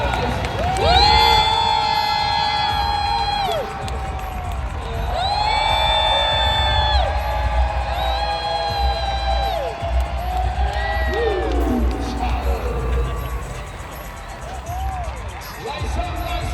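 Arena crowd at a Harlem Globetrotters show cheering and whooping loudly, with an announcer's amplified voice and music over the sustained roar.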